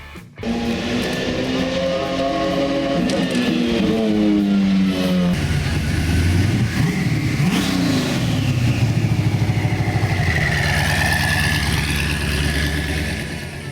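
Supercars at Monterey Car Week rev loudly, engine notes rising and falling in sweeping pitch as they accelerate past, one roaring continuously into the next with no talk.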